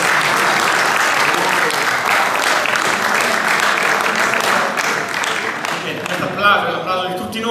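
Loud, sustained applause fills the room at an 80th birthday lunch for Giuseppe Mastropasqua with Cus Pro Patria Milano, many hands clapping close and dense for about six seconds before fading, with voices rising as it ends.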